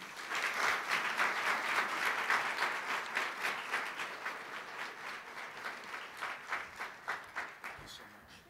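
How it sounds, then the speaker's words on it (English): Audience applause at a Rutgers student forum, a dense burst of many hands clapping that starts loud and gradually thins toward the end, with some background voices mixed in. "Let's give her another round of applause."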